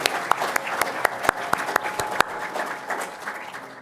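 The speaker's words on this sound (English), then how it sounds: "give yourselves a huge round of applause" An audience applauds at the close of the Dullah Omar Memorial Lecture, a room full of clapping with distinct sharp individual claps standing out in an uneven rhythm. Close and moderately loud, with a murmur of voices beneath it.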